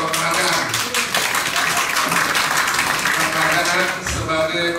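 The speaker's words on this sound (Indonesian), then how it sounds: "buat tepuk tangan dulu buat Pendeta ini dulu ya" Crowd applause for a pastor at a school launch event in NTT, Indonesia: loud, steady clapping from many people, with voices and cheering mixed in.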